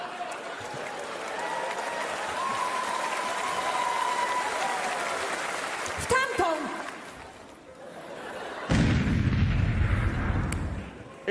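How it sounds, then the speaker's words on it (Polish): A loud bomb explosion effect in a Polish cabaret sketch about an American day, a sudden boom with a low rumbling tail that rises near the end, following crowd noise and applause from the audience. "Katie, to jest bardzo skomplikowana bomba o potężnej sile rażenia."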